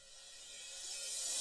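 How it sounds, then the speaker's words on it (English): A reversed cymbal swells steadily from a soft hiss to a bright, loud wash, then cuts off abruptly at its peak. "I've got some reverse cymbal sound here."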